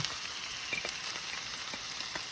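Celery, carrots and onion sauté with pancetta in a pan for Bolognese, giving a soft, even sizzle with faint taps of stirring, close but fairly quiet.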